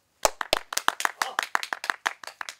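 Hands clap in a quick, uneven run of about fifteen sharp claps as an audience welcomes Master Wu to recite Buddhist poetry, a small, close group rather than a full roaring crowd.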